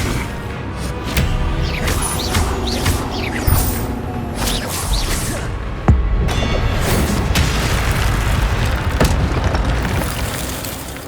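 Spell effects from the Hogwarts Legacy video game, the Incendio fire spell and the Expelliarmus disarming spell, sounding as a loud, dense run of magical booms and bursts over a constant rumble, with a sharp crack near the middle.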